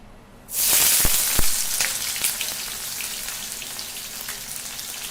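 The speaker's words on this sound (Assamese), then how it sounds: "তেল অকণমান বেছিকৈ দিব লাগিব কাৰণ পিঁয়াজখিনি ডিপ ফ্ৰাই কৰিব লাগিব।" Sliced onions dropped into hot oil for deep frying burst into a loud, sudden sizzle with a few sharp crackles, then settle into a steady bubbling hiss.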